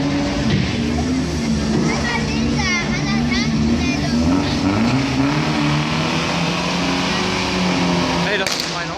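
Car engines rev and roar loudly and continuously with rising and falling pitch during a live stunt show at Movie Park Germany, with voices shouting over the noise.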